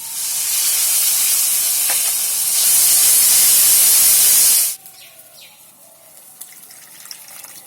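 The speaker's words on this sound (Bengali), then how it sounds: "সেই বাটি ধোয়া জল একটুখানি আমি দিয়ে দেবো চারিদিকে" Water from rinsing a bowl of ground chilli, cumin and coriander paste is poured onto spice paste frying with jackfruit, a loud rushing hiss that swells then cuts off abruptly, leaving a quieter crackling sizzle.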